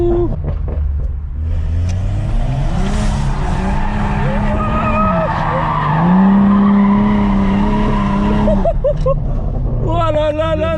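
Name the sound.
BMW M135i tires skidding and squealing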